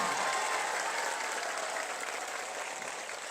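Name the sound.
crowd clapping hands in welcome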